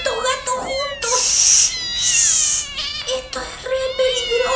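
Many cats meow and yowl together in loud, overlapping, wavering cries, a dense chorus filling the whole stretch with higher squealing bursts mixed in.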